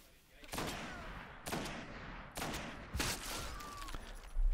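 Gunfire in the video game Destiny on Xbox 360: four or five sharp, loud shots spaced about a second apart, each with a short ringing tail, against faint background noise.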